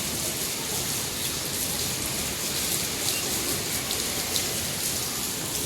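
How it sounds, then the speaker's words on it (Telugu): Steady morning rain falling outdoors, a dense continuous hiss of drops on surfaces with faint scattered patters, even and moderately quiet throughout, with no one speaking. "చూసారా వాళ్ళ పొద్దున్నే వర్షం వస్తుంది."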